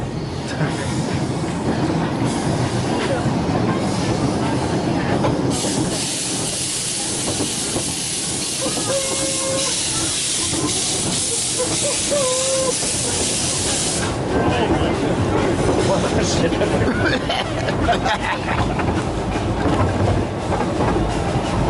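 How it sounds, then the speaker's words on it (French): An oil-fired steam train at the Efteling theme park chugs along with a steady rumble and rhythmic clatter, a loud hiss of steam rising in the middle, voices faintly underneath. "le train à vapeur se met en route"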